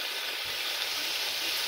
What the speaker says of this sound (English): It'd be like frying up a boneless chicken breast.